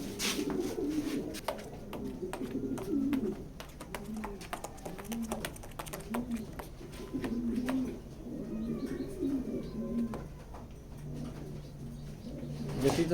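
Grizzle pigeons coo repeatedly in a loft, their low, rolling calls overlapping steadily throughout, with faint clicks and background rustle.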